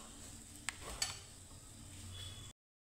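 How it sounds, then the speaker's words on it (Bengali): Rice flour toasting in ghee for pitha gives a soft, steady frying hiss, broken by two sharp clinks of a stirring utensil against the pan before the sound cuts off. "তো সুন্দর করে ভাজবো চালটা"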